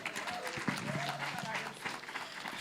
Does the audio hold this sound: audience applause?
yes